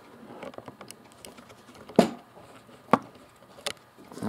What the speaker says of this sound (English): now let's remove this memory card from the radio itself